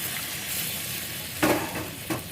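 Browned chicken curry sizzles gently in a pot as hot water goes in, with two short bursts of hissing and bubbling over a low, steady frying sound.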